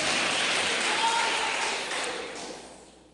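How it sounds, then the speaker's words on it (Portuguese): Church congregation applause fills the room as a dense, fairly loud wash of many hands, then gradually fades out toward the end. "uma salva de palmas para Jesus"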